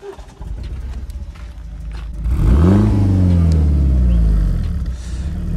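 A BMW 120i E82 engine cranks, starts, and revs up with a deep rising roar, then settles into a steady rumbling idle nearby.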